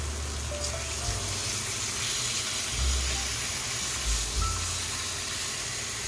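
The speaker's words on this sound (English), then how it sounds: "we're going to sear this for 6 minutes also" Pork chops sear in a pan just after being flipped, giving a steady, fairly loud hiss of frying fat close by with a low rumble beneath, unbroken for several seconds and with no talking.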